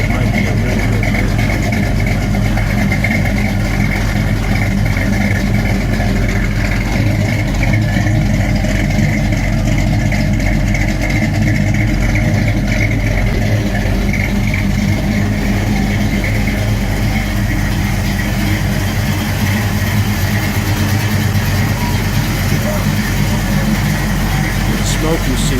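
A 1974 Pontiac Trans Am engine idles steadily and loudly close by, with a rough, continuous rumble throughout and voices heard faintly over it.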